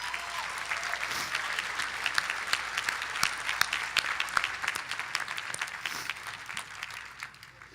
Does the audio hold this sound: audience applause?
yes